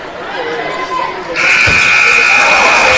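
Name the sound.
basketball game buzzer at end of first half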